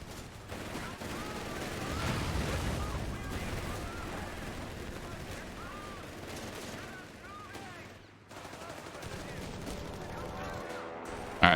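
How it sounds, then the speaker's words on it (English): Gunfire and grenade blasts from the video game Company of Heroes 3 during a hilltop battle, a dense stretch of rattling shots and thuds that dips briefly before a sharp bang at the end. "I'll throw a grenade here too"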